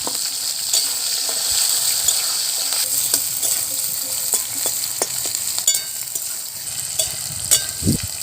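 Whole cumin, bay leaf, chopped onion and whole garlic sizzle in oil in a wok, a steady close frying hiss broken by occasional scrapes and knocks of stirring.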